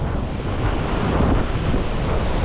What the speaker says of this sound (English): Wow, what a waterfall.